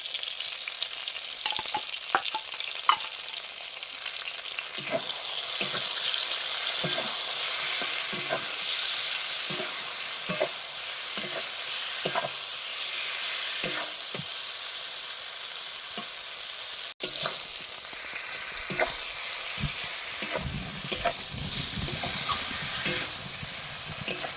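Onion, garlic, cumin, coriander, turmeric and dried chilli paste sizzles steadily in a hot pan for aubergine masala, with repeated sharp scraping and stirring clicks over the constant frying hiss.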